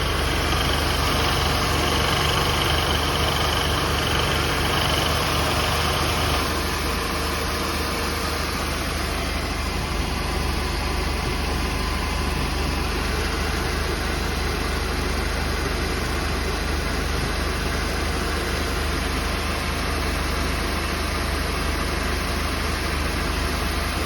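A Mercedes SLK230 with a newly replaced water pump idles steadily while warming up, a constant close engine drone with a dense hum and no voices.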